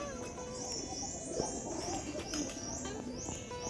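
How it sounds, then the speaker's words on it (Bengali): Flocks of pigeons feeding on scattered grain behind a temple under a large old tree coo softly in the distance, with a steady repeated high chirping from other birds and faint ambient noise. "প্রচুর পায়রা রয়েছে এখানটায়"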